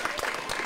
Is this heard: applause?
yes